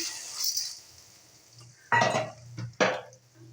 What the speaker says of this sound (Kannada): ಈ ಒಂದು ಮೆಕ್ಕೆಜೋಳವನ್ನು ಈ ಒಂದು ಎಣ್ಣೆಯಲ್ಲಿ ಹಾಕ್ತಾ ಇದ್ದೀನಿ